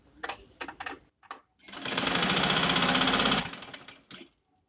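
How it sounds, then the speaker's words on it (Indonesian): A sewing machine stitches fabric in one sustained, loud whirring run of about two seconds. Several short bursts and clicks come before it, and a single brief burst follows it. "Jadi untuk sisi polos kita jahit sama dengan sisi yang bermotif."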